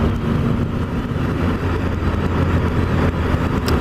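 A 2016 Triumph Speed Triple motorcycle is ridden at speed, its engine a loud, steady droning roar mixed with rushing wind throughout.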